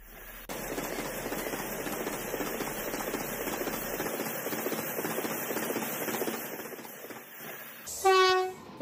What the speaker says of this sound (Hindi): वंदे भारत ट्रेन शानदार सफर के लिए जाना जाता है।